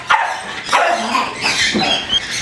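A pet dog, Charlie, squeezed among stuffed animals gives a few short, close whines and yips over about two seconds, with brief gaps between the cries.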